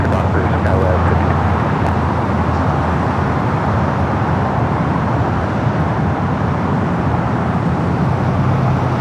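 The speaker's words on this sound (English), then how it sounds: "a 24-year-old 747-400 freighter. Runway 25 with a Foxtrot, let's take off" A 24-year-old Boeing 747-400 freighter takes off from runway 25 right at LAX, its jet roar a loud, steady, broadband rumble that holds throughout, with radio chatter faintly underneath.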